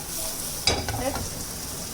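Chicken meatloaf vegetables sauteing in a pan give a steady, quiet sizzle, with a soft clink of stirring partway through.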